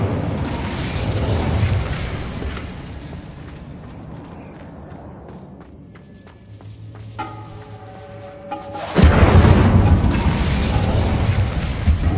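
A fire spell in Hogwarts Legacy on PS5 erupts in a loud, close burst of roaring flame after a quieter stretch with creaks and a tonal chime.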